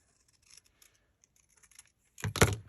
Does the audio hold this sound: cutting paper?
yes